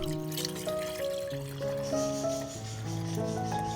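1000 ml of warm water poured for an orchid sugar solution: a steady trickling pour throughout, heard under continuous background music.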